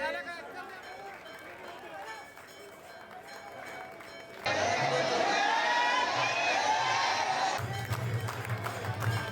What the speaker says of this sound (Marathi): शिवमंदिरांमध्ये पहाटेपासूनच भाविकांची प्रचंड गर्दी उसळली आहे